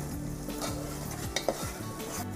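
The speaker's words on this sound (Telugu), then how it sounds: "దీన్ని ఆయిల్లో బాగా మనం కలుపుకోవాలి" Coconut masala being stirred in hot oil in a pan: continuous close sizzle with repeated scraping strokes of a spoon against the pan and a couple of sharp clinks, no talking.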